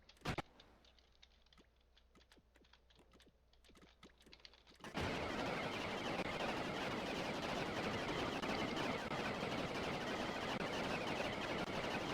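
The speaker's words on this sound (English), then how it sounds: "we can now use a more machine gun-like spud gun for more directed fire" A machine-gun-like spud gun on an attack helicopter in Scrap Mechanic fires rapid rattling shots, first as spaced clicks and pops, then a dense nonstop barrage that holds loud and steady to the end.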